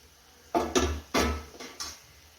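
A metal lid lifted off a cooking pot of dried shrimp chutney, a few close clanks and scrapes in quick succession, then quiet.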